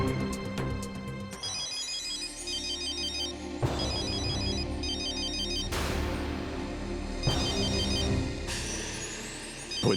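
A telephone rings in a French-dubbed TV drama episode, an electronic ringtone repeating in bursts of a few seconds each, loud and alone with no one talking over it.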